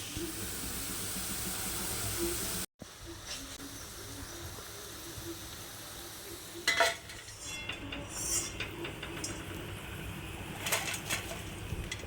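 Potatoes cut for local-style French fries deep-frying plainly in hot oil, a steady broad hiss with faint bubbling, briefly cut off near the start, then continuing with a few louder crackling bursts and clinks of a utensil.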